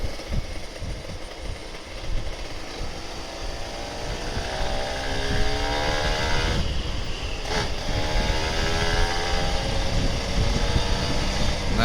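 A Kawasaki Ninja RR 150 sport motorcycle engine drones steadily as the bike rides along, its pitch climbing through the gears with a brief dip, accompanied by rushing wind noise.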